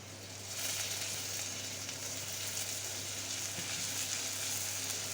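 Prawns fry in a pan with salt, chili powder and ginger-garlic paste, making a soft, steady sizzle over a low hum, faint and continuous without talk.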